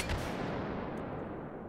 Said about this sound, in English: I swear this was an impact grenade.